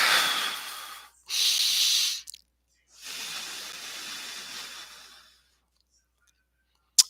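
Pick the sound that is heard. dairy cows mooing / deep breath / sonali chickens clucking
deep breath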